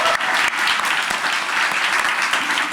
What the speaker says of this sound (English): Aaliyah Allen, who deserves an immense round of applause